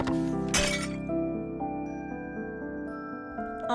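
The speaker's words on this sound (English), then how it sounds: "It was the sound of porcelain breaking on the floor." A porcelain teacup in the game Undusted shatters on the floor with a bright clink and crash near the start, its ringing tones lingering over a sustained musical backdrop.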